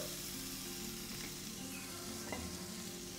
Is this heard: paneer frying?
yes